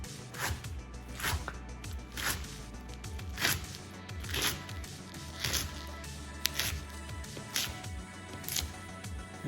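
Knife dicing rolled, halved collard greens on a cutting board, a steady series of crisp chopping taps about one per second, close and clear with no talk.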